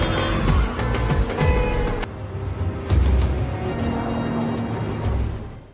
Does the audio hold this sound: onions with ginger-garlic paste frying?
no